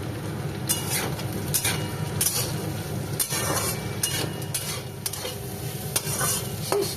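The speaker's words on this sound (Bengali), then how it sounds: "একটু আলু দিয়ে দিয়েছি পেঁয়াজ কলিটা দিয়ে ভাজবো" Potatoes and onion stalks frying in plenty of oil, a steady sizzle broken by repeated scrapes and knocks of a spatula stirring in the pan, close and continuous with no talk.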